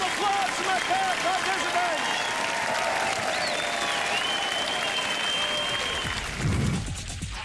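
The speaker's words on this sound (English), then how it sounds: "How about another round of applause" Audience applause at a televised magic show, sustained crowd clapping with cheering and whooping voices over it for several seconds, fading near the end as a voice briefly speaks.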